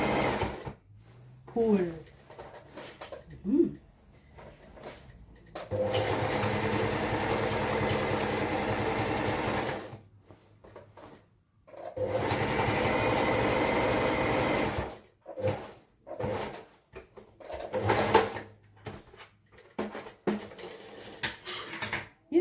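A sewing machine stitches baggy pants in several bursts of rapid, even whirring, each a few seconds long and separated by pauses, with someone talking and fabric handling clatter in between.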